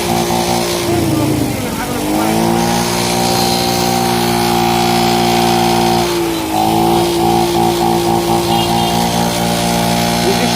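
A small engine used as a water pump runs loud and steady throughout, a dense harmonic drone with a brief dip in revs near the start and another mid-clip.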